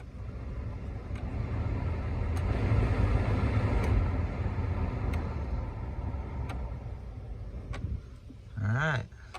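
A 2005 GMC Envoy's ventilation blower fan whooshes steadily, swelling slightly louder midway, with faint clicks and a brief whirring tone near the end.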